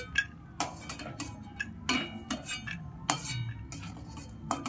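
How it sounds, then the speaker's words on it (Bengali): A metal spatula scrapes and clinks irregularly against a wok of hot oil while lifting out fried lentil dumplings, giving close, sharp metallic taps over a low background sizzle, with no voices. "খুন্তি দিয়ে তুলতে খুব অসুবিধা হচ্ছে"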